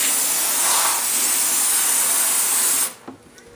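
A steady, loud hiss of water spray rinsing car paint runs nearly unbroken, then cuts off abruptly near the end, leaving a quieter room.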